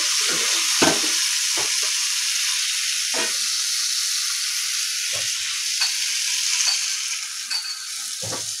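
Curry being stirred in a hot pan with water added, a steady loud hiss with periodic scraping stirs and soft knocks against the pan.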